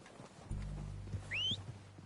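Horses approaching in a Western video game: hooves clopping in an uneven rhythm, then a clear, rising whinny from one horse, moderately close.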